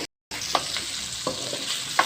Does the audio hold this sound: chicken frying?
yes